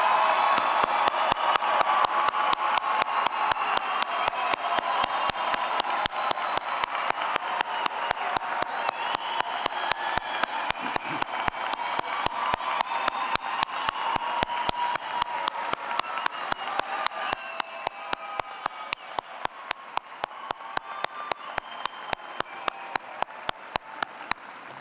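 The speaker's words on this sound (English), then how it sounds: "Let us applaud their accomplishments." Sustained applause from a large audience of new graduates and guests at a Penn State College of Education spring commencement ceremony, steady dense clapping filling the hall for about twenty-five seconds and tapering slightly toward the end, with no talk over it.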